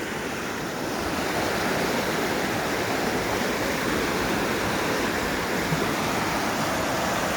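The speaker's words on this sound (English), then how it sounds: "This is the culvert where the water crosses over to the other side of the trail." Water from Wheeler Creek rushes through a culvert under a trail, a loud, steady, broadband roar with no pause, close by and alone.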